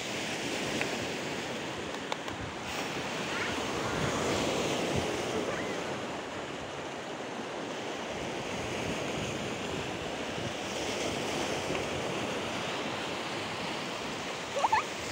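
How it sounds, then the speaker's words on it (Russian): Steady roar of stormy Baltic Sea surf washing onto the shore at Zelenogradsk, continuous and broad, with some wind rushing over it. "Это море."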